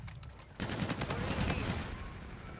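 Sniper rifle gunfire in a first-person shooter match: a faint shot opens, then loud, dense overlapping gunfire of several weapons fills the rest of the brief burst.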